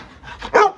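A large working-line dog gives a single short, loud bark near the end of a brief stretch, with some soft panting or movement before it and no talking.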